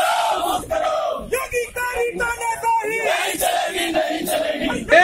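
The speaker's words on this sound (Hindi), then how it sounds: "इस दौरान उनके साथ मौजूद समर्थकों ने जमकर हंगामा किया" A crowd of Samajwadi Party supporters chants political slogans in unison during a street protest after Akhilesh Yadav's arrest, loud rhythmic shouting in repeated bursts with overlapping voices throughout.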